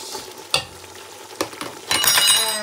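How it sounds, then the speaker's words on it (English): A pot of spinach sauce with ground crayfish is stirred, giving a few scraping knocks followed by a steady hiss and sizzle, close and alone. "I will stir more, and I'll not forget to add my pepper"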